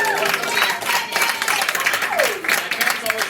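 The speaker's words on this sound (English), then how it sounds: "Cheer for Bunny now" A live crowd at a dime museum strongman show cheers and applauds continuously, dense clapping and shouts filling the whole stretch with a voice mixed in.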